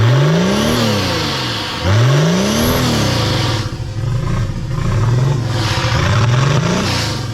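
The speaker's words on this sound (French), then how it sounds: "T'entends la décharge de turbo?" A turbocharged diesel engine revs in two rising surges, then keeps up a loud, rough, close running note with further swells and whooshing turbo release sounds, no voices.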